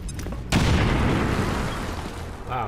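A grenade goes off in XCOM 2 with a loud, close, heavy boom that rolls out into a long rumbling decay for about two seconds.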